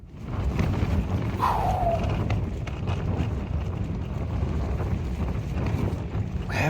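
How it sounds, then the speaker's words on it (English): Strong gusting wind on an exposed Lake District fell top during wild camping, roaring steadily and loud against a pitched tent with buffeting low rumble throughout, no talking. "Whoa, that wind is coming."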